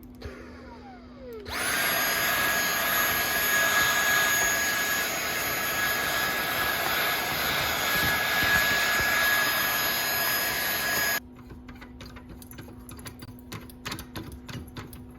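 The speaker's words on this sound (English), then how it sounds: "I'm going to go grab my vacuum and clean that thing off because it is just covered in years and years of dust" A vacuum cleaner sucks years of built-up dust off old equipment, a loud steady roar with a high whine that kicks in abruptly, runs for about ten seconds, then cuts off, leaving quiet handling noises.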